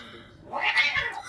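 A cat yowls loudly and close by in one drawn-out, rising cry lasting about a second, with a faint voice murmuring briefly in the background.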